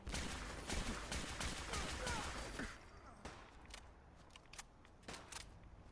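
Rapid fire from an explosive advanced radium rifle in Fallout 4 Far Harbor, a fast run of sharp cracks that thins into scattered shots, with someone talking over the gunfire.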